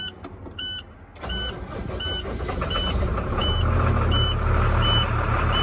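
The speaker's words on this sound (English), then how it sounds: "That's a cold start" A box truck's engine cranks and fires on a cold start, a few short electronic beeps sounding first, then a steady low mid-pitched idle settling in close by with no talking.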